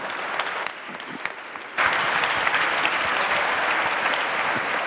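Business-conference audience at the Cité de la Réussite 2010 breaking into applause: scattered claps at first, then a dense, sustained burst of clapping from the whole hall that holds steadily to the end, without speech.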